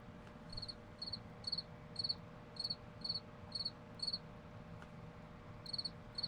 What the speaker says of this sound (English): the crickets.